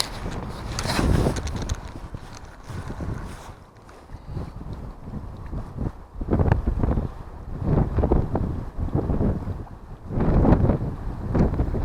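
Gusty wind buffets the microphone on the tidal River Tyne during sea fishing, roaring loud and rising and falling in waves, with no speech.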